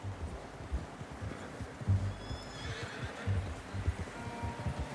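A horse in Red Dead Redemption 2 whinnies loudly over steady clip-clopping hooves, the neigh standing out midway through continuous riding noise.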